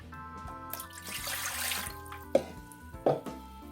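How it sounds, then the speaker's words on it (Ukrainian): Water runs and splashes into a pot for a couple of seconds, with clinks of kitchenware and a couple of sharp knocks near the end. "В кастрюлю відправляю воду"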